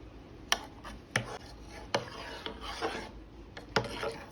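Knorr vegetable soup powder stirred in a bowl to break up lumps, a spoon scraping and rasping against the sides in short irregular strokes with sharp clicks, close and alone.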